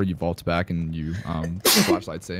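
During talk over Dead by Daylight survivor gameplay, a person lets out a single short, sharp sneeze, squeezed between stretches of speech.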